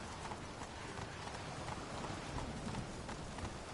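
Hoofbeats of Roach, the horse in The Witcher 3, rapid and steady at a gallop, soft and distant beneath a faint noisy wash.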